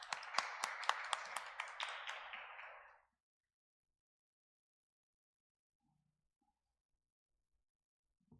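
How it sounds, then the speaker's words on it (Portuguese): Applause from an audience at a public hearing, a steady burst of clapping with sharp individual claps that lasts about three seconds and then stops, leaving near silence. "Uma salva de palmas."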